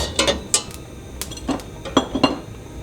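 Pots and utensils clink and clatter on a stovetop while eggs are readied for boiling in a casserole of water, several sharp metallic knocks scattered irregularly over a few seconds, close and alone.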